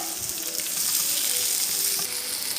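Chicken cabbage rolls frying in a pan, giving a steady, close sizzle with crackling oil that runs unbroken for the whole stretch.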